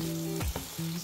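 Vegan one-pot fried rice with vegetables sizzles and fries steadily in a pan, broken by a couple of brief scraping stirs midway, close and fairly loud with no talking.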